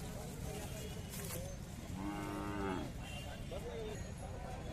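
Bullocks at a crowded rural bullock market in Chopda low out in one long, drawn moo, rising over a constant din of crowd chatter and open-air noise.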